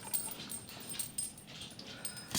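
Puppies whimpering indoors, a few soft high yips and whines scattered across a short quiet stretch, close but faint, with no talk.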